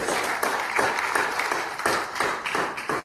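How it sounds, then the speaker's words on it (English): Applause from the audience at a live real estate panel discussion, steady dense clapping throughout with a few louder individual claps standing out. "A big round of applause for all."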